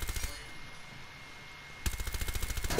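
A video game gun fires two rapid automatic bursts, one brief and one longer, with loud, close, evenly spaced shots and a quiet pause between them.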